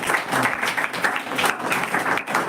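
Audience clapping at a Tamil public talk at Kalam Sabha, a dense, continuous burst of many hands applauding close by for a couple of seconds.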